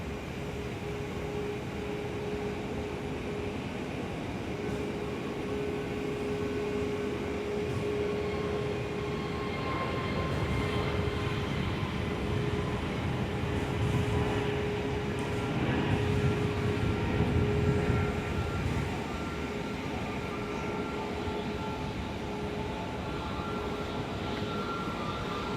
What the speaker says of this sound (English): Jetstar 110 service over to Denpasar today with the Airbus A321s on the roll.